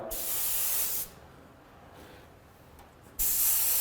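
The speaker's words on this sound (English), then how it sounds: "kind of randomly spray it, not spraying it wet, again, mostly dry" A spray can hisses in a steady burst of light, mostly dry candy pearl paint onto a drag racing boat, stops for a couple of seconds of quiet, then sprays again in a second burst.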